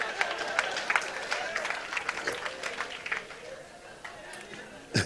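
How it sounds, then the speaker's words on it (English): Scattered clapping from an audience at a sermon-style talk: sparse, uneven claps and a few louder bursts over murmuring crowd chatter. "Clap right there, somebody."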